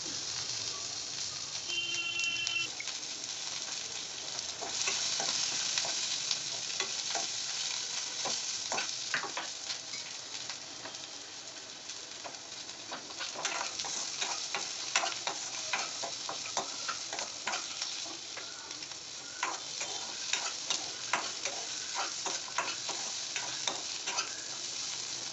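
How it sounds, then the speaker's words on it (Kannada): Mushroom curry ingredients, with coconut and tomato, fry in a pan, making a steady close sizzle with frequent crackles and the clatter of stirring throughout. "ಇದಕ್ಕೆ ನಾನು ತೆಂಗಿನಕಾಯಿ ಮತ್ತು ಟೊಮೊಟೊನು ಕೂಡ ಆ್ಯಡ್ ಮಾಡಿಕೊಂಡು ಅದನ್ನು ಕೂಡ ಸ್ವಲ್ಪ ಹೊತ್ತು ಚೆನ್ನಾಗಿ ಫ್ರೈ ಮಾಡ್ಕೋತಾ ಇದ್ದೀನಿ"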